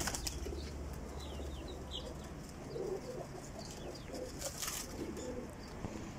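Pigeons coo and flap their wings at a breeder's loft, a steady low bed of cooing with scattered wingbeats and bird calls, fairly faint, no voices.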